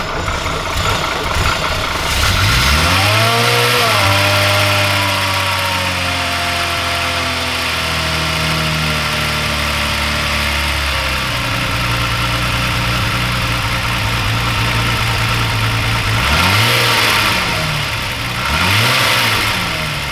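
VW Golf 4 Cabrio converted to a turbocharged VR6 engine starts and revs in a workshop, loud close engine with rising and falling revs, a settled idle in the middle and further sharp blips near the end.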